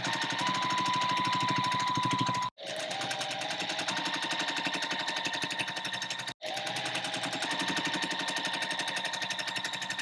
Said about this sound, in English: So I'm going to get sewing.